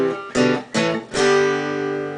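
Guitar strums three chords one after another, each a short attack with a quick gap between them, and the last chord rings out and slowly fades. The playing is close and there are no voices.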